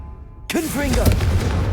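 After a moment of quiet, a Confringo blasting curse erupts in Hogwarts Legacy as a sudden booming blast. A voice rises over the rumbling aftermath that follows.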